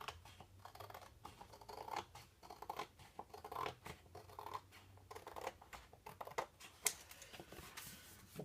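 Scissors cutting a paper pattern for a 20x20 paper storage box; quiet, irregular snips and rustling scrapes in quick uneven bursts, close by, with no talking.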